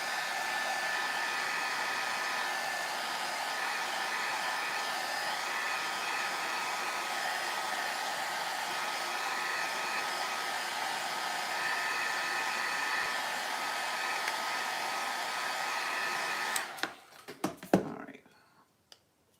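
Hair dryer blowing on paint on a DIY gingerbread house made from a plastic toy, a loud steady whir lasting about seventeen seconds, then cutting off, followed by a few clicks and handling sounds.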